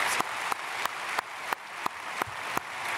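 Church congregation applauding at a special early-morning worship service, a steady wash of many hands clapping at moderate distance with sharp louder claps standing out at regular intervals.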